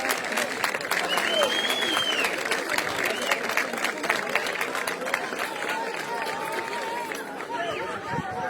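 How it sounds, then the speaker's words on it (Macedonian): Crowd applauding a girls' football team at an award ceremony for a youth tournament, continuous clapping mixed with loud chatter and cheering voices, a whistle-like tone rising briefly over the din. "Уште еден аплауз за овие девојчина кои уште еднаш покажаа дека фудбалот не е само машка игра"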